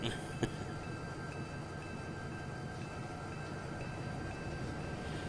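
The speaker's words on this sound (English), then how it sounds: "I need to bring this train forward and then back it up into there" Steady low rumble of a Union Pacific GP20 train rolling along in Train Simulator 2015, with faint metallic ringing tones, a single click near the start, and no talk.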